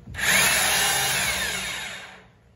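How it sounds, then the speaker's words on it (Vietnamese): A three-function 220V concrete drill runs in wood-drilling mode, with variable speed and reverse. It makes one loud, steady, high whirring burst of about two seconds, close by, that spins down at the end with no talking. "Đây là nước khoan gỗ này."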